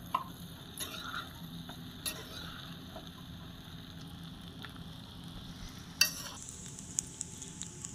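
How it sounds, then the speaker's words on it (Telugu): Chicken egg fried rice being stirred in a pan at home, with quiet scraping and soft sizzling, a few sharper clinks of the spatula against the pan, and no talking. "ఇప్పుడు బాగా కలుపుకోవాలి ఫ్రెండ్స్."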